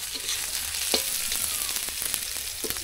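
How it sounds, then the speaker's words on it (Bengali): Onion fries in oil in a hot wok for a snakehead fish curry, a steady close sizzle with occasional scraping stirs of a spatula and no talking. "পেঁয়াজটা লাল লাল ভাজা ভাজা হবে"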